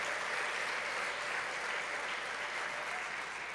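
A worship congregation at a Christmas church service claps together, a dense, even wash of applause at a moderate distance that holds steady without a break.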